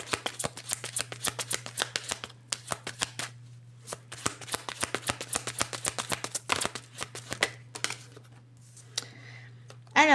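A deck of tarot cards is reshuffled by hand, giving a long run of quick, crisp slapping and flicking taps with short pauses. The sound is close and there is no talking.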